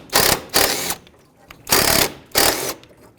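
A ratchet works loose the 13mm bolts on a 2013-2020 Nissan Pathfinder radiator core support bracket, four short buzzing bursts of clicking close up with brief gaps between them.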